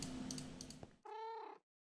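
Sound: cat meowing in Minecraft video game

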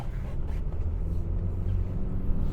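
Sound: Honda Civic 1.8 EL engine revving under throttle

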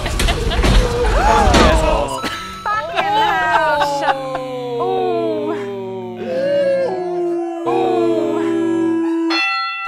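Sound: dog howling in a watched video

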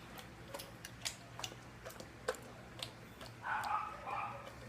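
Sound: dog training clicker clicking

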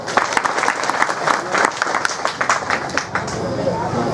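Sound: audience applauding

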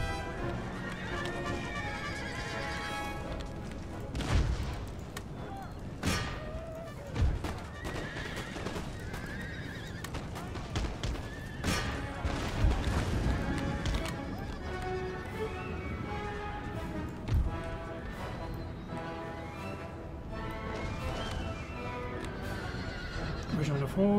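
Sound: cavalry horses neighing and galloping in the video game Empire: Total War

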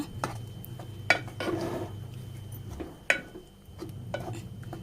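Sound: stirring and mixing erissery ground paste in a pot

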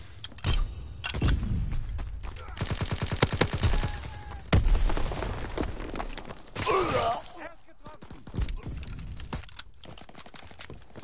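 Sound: fighter plane strafing gunfire in a video game

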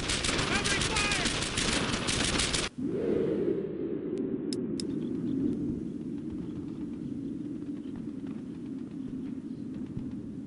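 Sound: covering gunfire in Brothers In Arms video game

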